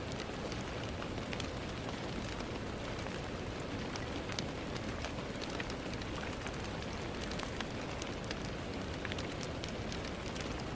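Steady, dense rain hisses without a break throughout, with scattered drops tapping close by and no voices.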